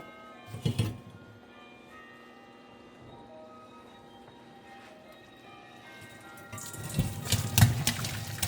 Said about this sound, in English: I'm going to run some cold water so they don't stick together.